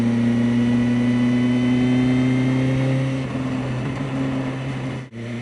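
BMW M1000R motorcycle riding on a highway, a loud steady engine drone with strong tonal hum and wind rush, easing slightly off near the end with a brief dip.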